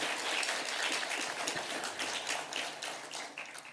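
A congregation applauds at a Korean church council prayer meeting for Ukraine in New Jersey. Dense, steady clapping from many hands fills the room for several seconds, then slowly thins toward the end.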